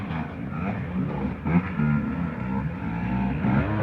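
An extreme off-road competition vehicle labours with its tyres slipping on a very slick course, the engine droning and revving up and down steadily and fairly close, with a voice talking faintly over it.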